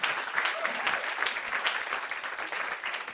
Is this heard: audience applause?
yes